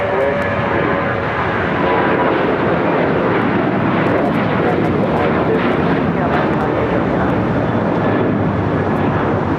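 An American Airlines jet takes off from runway 25 Right at LAX, its engines a loud, continuous broadband roar throughout, with someone talking over the noise.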